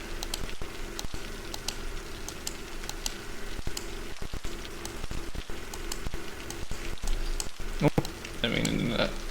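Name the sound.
rain in the video game Cities Skylines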